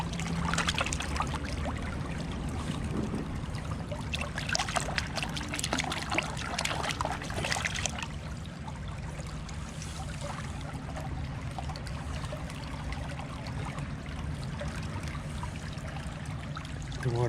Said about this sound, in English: The water is flowing fast.